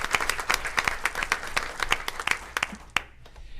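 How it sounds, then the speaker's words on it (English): Audience applause fills a school board meeting, dense clapping from a crowd honoring a student robotics team's first-place win, steady throughout and tapering off near the end. "Round of applause for the Wave Riders."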